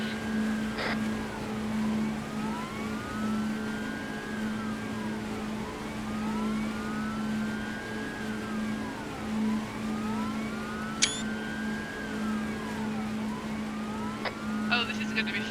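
An emergency vehicle drives past during a Thursday training session, its siren wailing in steady rising and falling sweeps over a constant low engine drone, with a few sharp clicks near the end.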